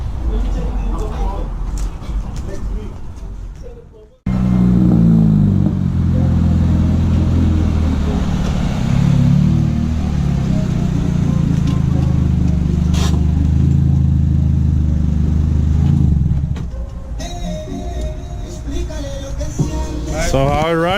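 A car fitted with new Truhart coilover suspension drives along with a steady, loud engine and road rumble, after a brief cut, while people talk over the noise.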